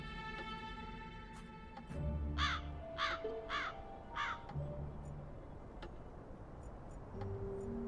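A crow caws four times in a quick, evenly spaced series, fairly clear over a quiet game ambience of low tones and soft ticking, in the video game Black Mirror 3.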